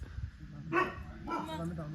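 A dog barks a few times at a hill temple area in Meghamalai, short yaps rising over close talk and outdoor background noise.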